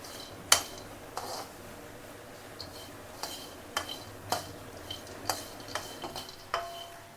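Pistachios roasting in a pan while being stirred, sharp rattling clicks and scrapes of nuts and spoon against the metal arriving every half second or so, close and alone.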